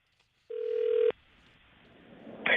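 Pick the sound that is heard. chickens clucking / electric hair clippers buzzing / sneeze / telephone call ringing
telephone call ringing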